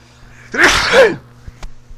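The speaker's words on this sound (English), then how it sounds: "Excuse me, I had to sneeze there." A single loud, close sneeze bursts out, followed by a couple of faint clicks in a quiet room.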